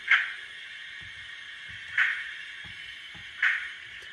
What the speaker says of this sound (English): 15 is door slams.